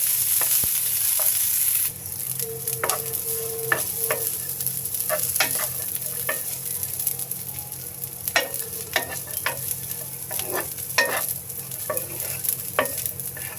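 Chopped nuts and dry fruits fry in hot oil with a steady close sizzle, while a spoon scrapes and taps the pan at irregular intervals.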